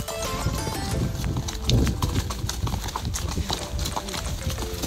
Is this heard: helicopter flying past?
no